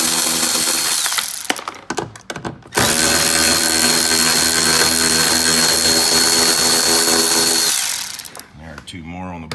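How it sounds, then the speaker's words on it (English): A power tool whines loudly up close while backing screws out of a Lotus Evora power window motor, two long sustained runs split by a short pause, ending in brief ratcheting. "So I'm going to remove these 4 screws."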